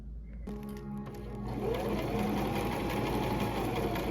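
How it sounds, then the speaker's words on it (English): A sewing machine stitching a dress, starting up after a brief pause and running steadily with a fast, close mechanical whirr. "I'm going to start actually sewing and making the dress."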